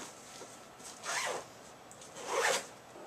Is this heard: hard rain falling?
no